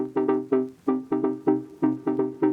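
Plucked, tonal notes repeat in a steady pattern, each with a soft, slightly dull, muddy echo from a cassette-simulated delay trailing behind it. Warm, muted tone, no voices.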